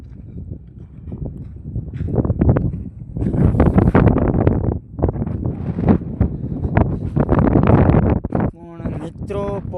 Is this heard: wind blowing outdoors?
yes